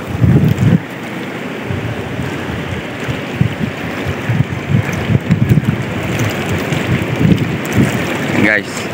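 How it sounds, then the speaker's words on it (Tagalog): Rough sea waves wash and churn around a fishing boat off Calatagan, Batangas, with gusty wind roaring over the microphone and occasional louder surges of water. "medyo malakas ang alon"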